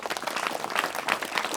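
A group of schoolchildren claps together at a chess board distribution event in a school, producing a short, dense burst of applause heard fairly close.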